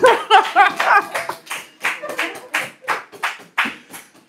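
A church congregation claps during a Sunday service, a loose series of distinct, uneven hand claps close by, with a little laughter mixed in.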